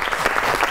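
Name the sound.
audience applause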